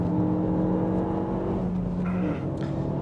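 A Renault Megane RS250 Cup engine on track at Oulton Park, accelerating through the gears in third, a steady in-car drone with a gear change near the end.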